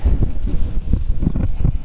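Wind gusting across a mountain view deck in Porac, Pampanga, a low steady rumble buffeting the microphone in irregular pulses, with no talk.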